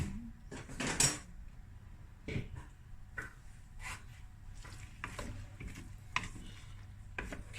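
A spoon scrapes and clinks against a baking dish while stirring egg, cheddar cheese and rice, with irregular close taps and scrapes at a quiet level and no talking.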